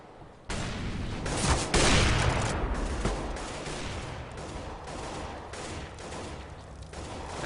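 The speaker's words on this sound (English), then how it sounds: "as we see with Crystal, nice AWP shot, getting the return" Rapid Counter-Strike gunfire with dense overlapping shots and bursts, loud and continuous over a noisy game mix, including sniper rifle cracks, with no clear talk.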